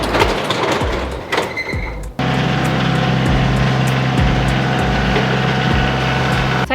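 A farm tractor engine drones steadily up close, a loud continuous low rumble with some clanking early on, then an even hum through the rest of the clip without speech.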